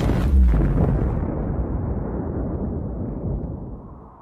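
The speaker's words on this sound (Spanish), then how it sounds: "caería un meteorito encima de él, así generando una enorme explosión" A deep boom from a meteor impact explosion bursts out at the start, then a heavy rumbling roar that slowly fades over a few seconds.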